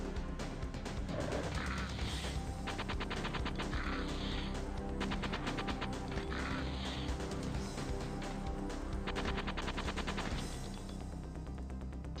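Rapid mechanical gunfire from a SEGA survival horror game, steady repeated bursts over dense, loud game sound and music throughout.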